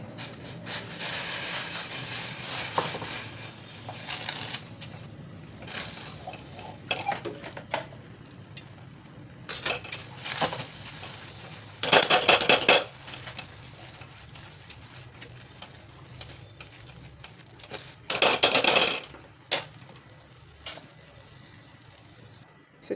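A spoon scrapes and stirs semolina around a pot of boiling water in irregular strokes, with occasional louder metallic clanks close by and no voices.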